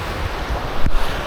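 A small mountain stream near Martuljek waterfall, a close, loud, continuous rush of flowing water with some wind buffeting the microphone, heard briefly on its own.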